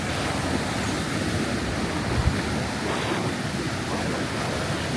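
Waterfall and river at Krka in Croatia, a steady, broad rush of falling water heard up close, filling the whole stretch evenly without a break.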